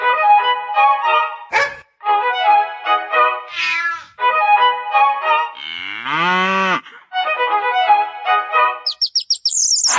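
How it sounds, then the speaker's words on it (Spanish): A cow moos in long, loud, drawn-out calls, set among a lively mix of animal sounds including cat meows and bird chirps, with no talking. "la vaca muge"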